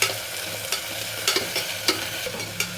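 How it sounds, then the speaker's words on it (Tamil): Onions sizzle steadily in hot oil while a spoon scrapes and stirs the pan in repeated short strokes, close up and without talking. "இப்போ இதை நம்ம நல்லா வதக்கிக்கலாம்."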